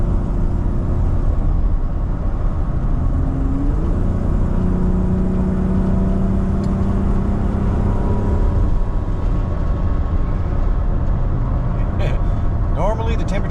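A Dodge Caravan with a faulty temperature gauge driving along, a steady loud road and engine rumble filling the cabin throughout, with a brief rising whine near the end and no pauses.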